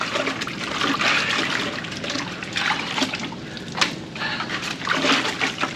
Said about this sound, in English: I like to reverse the mat, turn it upside down, and then like a wash machine, make sure everything comes out of that miner's moss